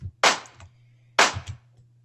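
Two sharp, layered snare hits about a second apart, each a bright burst with a short tail, over a low steady hum.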